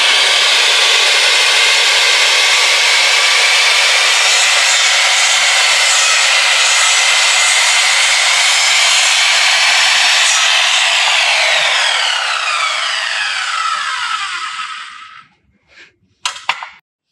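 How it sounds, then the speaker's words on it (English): A circular saw cuts a truck bed part with a loud, continuous high whine that holds steady, then winds down and stops, followed by a few short clanks. "This is a very bad idea to do with a circular saw"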